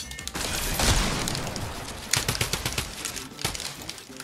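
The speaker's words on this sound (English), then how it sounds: "The drum gun is so good" Rapid bursts of drum gun fire in a ranked Fortnite-style shooter match, loud and dense with repeated volleys and scattered sharper shots through the middle and end.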